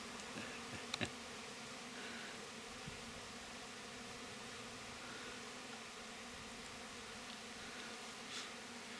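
A honeybee swarm in May, bees gorged on honey, fills the air with a steady, dense buzzing hum that holds level throughout, with a couple of brief soft knocks near the start.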